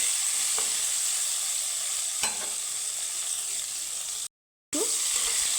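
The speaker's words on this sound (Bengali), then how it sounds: "টমেটোটাকে আমি একটু হালকা করে ভেজে নেব" Chopped tomatoes frying lightly in a pan with five-spice tempering for a fish dish, a steady close sizzle with a few soft stirring scrapes, briefly cut to silence near the end, no talk.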